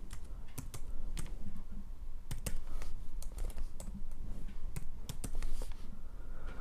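Rapid, uneven clicks of typing on a computer keyboard while a password is entered during email account setup, close and steady with no talk.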